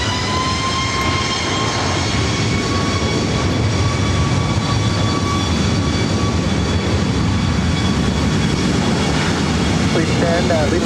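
An airliner taking off at LAX, a loud continuous jet engine roar with steady high-pitched turbine whine tones sustained throughout.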